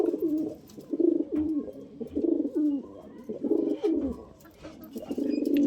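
Pigeons coo steadily in a loft, their low rolling calls repeating in overlapping phrases close by with no talk over them.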